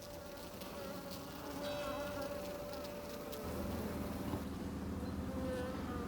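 Honeybees swarm around their queen inside a beehive, producing a steady, close buzzing drone that fills the scene with a constant insect hum.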